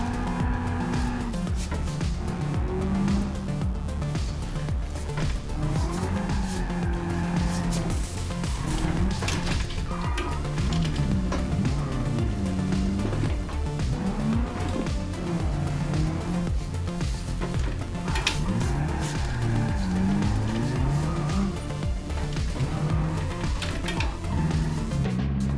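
A powerful drift car on a touge mountain road in BeamNG.Drive howls continuously, its engine note rising and falling while tires squeal and skid through long slides, loud and close without pause.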